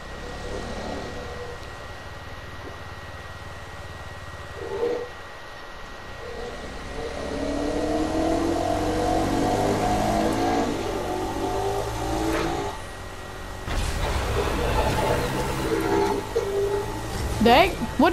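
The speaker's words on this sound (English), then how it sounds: "I can make this do a wheelie." Car engine revving in Fortnite as the vehicle pulls a wheelie, a mid-pitched engine climbing and surging across several revs, loud and close, with people talking over it.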